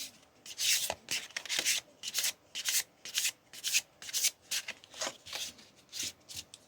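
Oracle cards being shuffled by hand close up, a quick series of papery riffling bursts and rubs repeating in an even rhythm, quiet and with no talking.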